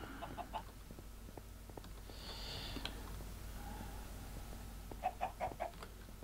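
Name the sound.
chickens clucking in a video game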